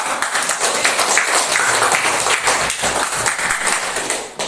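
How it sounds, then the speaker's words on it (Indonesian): A school audience applauds a group's visual presentation with a dense, sustained wash of clapping from many hands, loud and steady before trailing off. "Kita kasih tepuk tangan."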